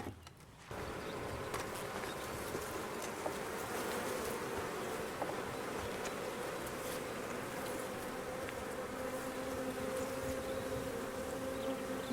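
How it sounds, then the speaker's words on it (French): Honeybees from a beekeeper's hives make a steady, dense buzzing hum that carries evenly through the whole stretch, close and continuous, with no voices. "je cultive le safran et j'ai des abeilles aussi, donc je fais du miel"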